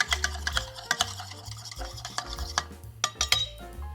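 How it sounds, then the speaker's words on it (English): A raspberry cocktail is stirred before shaking, giving rapid clinking and scraping of a spoon against glass in a quick irregular rhythm, close and fairly crisp. "we're just gonna give this a little stir, just so it dissolves a little bit before we shake it"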